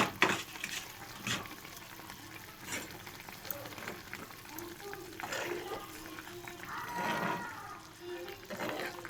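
A mustard paste curry simmers and bubbles in a pan after coriander leaves go in, giving a steady close bubbling and sizzling with a few louder stirring or spattering bursts.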